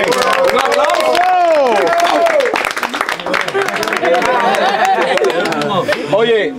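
Studio audience breaks into loud, sustained clapping and cheering at a neighborhood talent show in La Roma, Chile, with crowd voices and whoops layered throughout.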